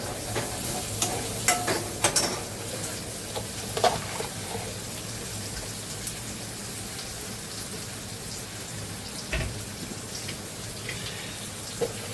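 Onion cooking in a pan as part of an Agri-style dried bombil masala, with a low continuous sizzle, occasional stirring scrapes and a few sharper clinks, close and unaccompanied by talk.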